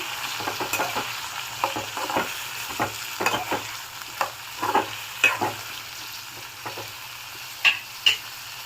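Two large chopped tomatoes fry in a pan while a spoon stirs them, giving a soft continuous sizzle broken by scattered clicks and scrapes, loudest toward the end. The cooking is close and steady, with no talking.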